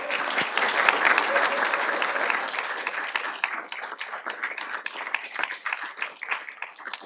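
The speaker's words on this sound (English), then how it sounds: "Let's give our honorees one more round of applause." An audience applauds scholarship honorees at a leadership award presentation, with dense sustained clapping from a crowd that fills the room and slowly thins toward the end.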